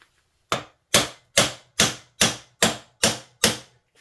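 A hand hammer striking metal on a Chinese 70cc ATV during engine removal, eight sharp, evenly spaced blows about half a second apart, loud and close with brief decays and no talking.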